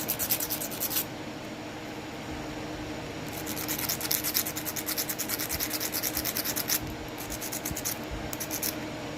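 A diamond file from a hardware store grinding the edge of a knapping stone, giving close, steady rasping strokes in a repeated back-and-forth rhythm with short pauses, no talking.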